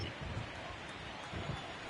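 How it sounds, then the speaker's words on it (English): Steady rain pours down in the baseball game MLB The Show 19, a dense, soft hiss over the ballpark that swells faintly now and then. "that rain is really coming down right now"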